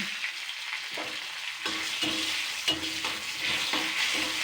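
Chopped garlic and slit green chillies frying in hot oil, a continuous bright sizzle overlaid with a run of soft rhythmic stirring strokes, close by and fairly quiet, without talking.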